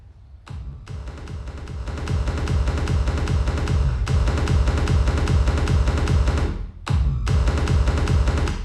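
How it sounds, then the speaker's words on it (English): Pounding hardstyle kick drums layered with a psy kick and rolling, rapid psy bass line play in a steady driving pattern, broken by two brief stops before resuming. "I show you how I build the hardstyle kick with the psy kick and the psy bass together"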